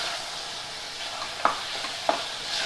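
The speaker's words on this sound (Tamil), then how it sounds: "இப்போ இதில் நான் ஒரு 2 தக்காளியை சாப் பண்ணி எடுத்திருக்கேன். அதை இதில் சேர்த்துக்கிறேன். சேர்த்துட்டு நல்லா கலந்து விட்டுருங்க." Chopped tomatoes stirred into a pan of potato and peas kurma, faint soft sizzling with a few sharp spoon scrapes against the pan.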